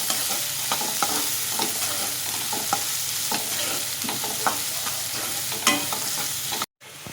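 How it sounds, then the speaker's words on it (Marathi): Onion fries in a hot pan with cumin seeds while being stirred, producing a constant loud sizzle broken by frequent scraping spatula strokes, then a brief drop to near silence just before the end. "कांदा मस्त एकदम फ्राय करून घ्यायचा"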